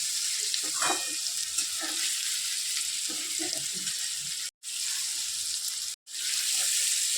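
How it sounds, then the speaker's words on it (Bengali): Masala and tomato sautéing in a pan, a bright, continuous sizzle with light stirring scrapes near the start, interrupted by two very short cuts to silence. "এই মশলাটা একটু হালকা হালকা করে একটু কষতে হবে"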